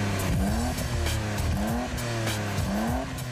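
A Japanese sports car with a 2.6-litre inline six racing hard, its engine revving up and down in repeated rising sweeps with tire squeal, loud and close with no voices.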